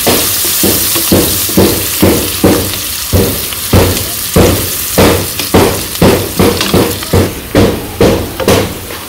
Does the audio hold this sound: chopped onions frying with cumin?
yes